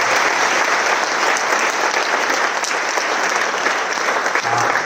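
Dense, sustained audience applause fills an awards night for a high school's senior athletic and academic honors, an even wash of many hands clapping at constant loudness for about five seconds, with no speech.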